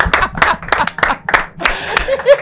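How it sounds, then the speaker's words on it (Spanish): A small group claps in quick, uneven bursts, with voices mixed in among the claps. "Un aplauso para ti."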